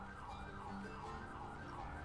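Ambulance siren in the video game GTA 5, a steady wailing up-and-down tone that is continuous and faint, mixed with low road rumble and no talking.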